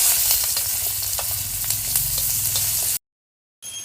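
Chopped onion fries in oil with whole garam masala and bay leaf, a loud, dense sizzle and crackle up close that cuts to silence briefly before resuming, with no voices.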